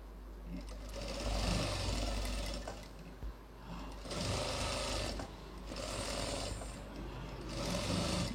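A sewing machine stitches a designer blouse in several close, loud runs of rapid needle chatter, each lasting a second or two, separated by short pauses.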